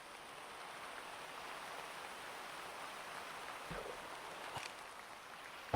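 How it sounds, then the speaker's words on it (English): Steady, soft rain falling outdoors near the ocean on a foggy morning, an even wash of patter with a couple of faint nearby knocks. "Oh, the rain's just started to clear up."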